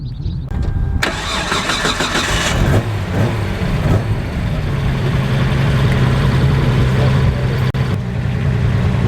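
A Nissan Skyline R33 with its RB26 engine cranks and fires up loudly, then settles into a steady, rumbling idle close by, with no talking.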